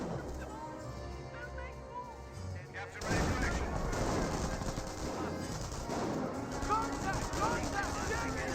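Gunfire in a Company of Heroes battle, starting abruptly after a quieter stretch of ambience and continuing as dense, overlapping bursts and cracks at moderate loudness, with a voice talking over the fighting.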